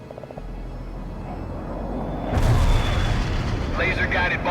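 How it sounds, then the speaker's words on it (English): Laser-guided bomb strike in World in Conflict: a low rumble swells into a heavy explosion boom midway, with a radio-style voice speaking over the battlefield noise. "Laser-guided bomb strike completed."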